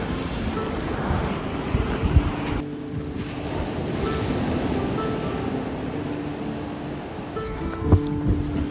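Wind rushes and ocean surf churns around a boat out at the point near Preveza, with the swell rolling in; a steady broadband roar with occasional gusty bumps and a faint engine hum beneath, no voices.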